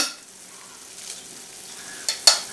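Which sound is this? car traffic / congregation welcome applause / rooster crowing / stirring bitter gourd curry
stirring bitter gourd curry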